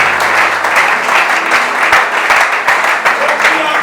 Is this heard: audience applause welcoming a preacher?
yes